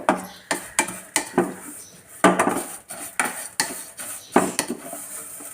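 Vermicelli roasting in a pan for semiya khichdi is stirred with a metal spoon, producing close rhythmic scrapes and clinks against the pan over a faint dry crackle, without talk.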